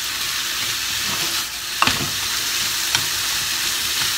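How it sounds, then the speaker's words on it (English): White spring onion stir-fried in a pan over medium heat, a constant loud sizzle with a couple of sharp scrapes of the utensil against the pan, heard up close without speech. "turn up the heat to medium and stir fry them"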